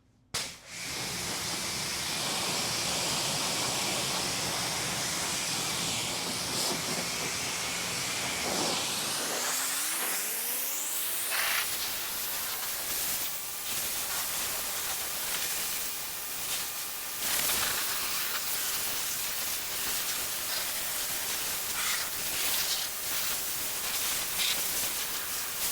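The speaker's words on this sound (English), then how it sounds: "We're going to do another quick time lapse and finish rinsing off this vehicle." Water sprayer rinsing off a car during detailing, a loud continuous hiss that shifts in tone partway through as the spray moves, steady and broadband with no voices.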